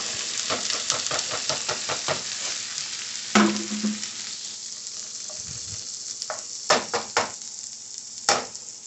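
Broccoli, mushrooms, peppers and tomatoes drop into a hot pan and fry with a loud, bright sizzle, followed by scattered stirring clatters as the crackle settles.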